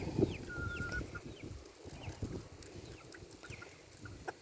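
Roosters at a homemade DIY nipple waterer give soft, scattered clucks and short calls at close range, mixed with faint farmyard bird chirps in the background.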